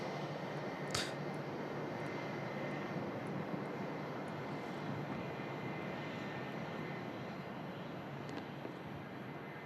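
An Aegean airliner's engines drone steadily at Manchester Airport, a dense, fairly distant roar that holds even across the whole stretch, with a few faint clicks over it and no talk.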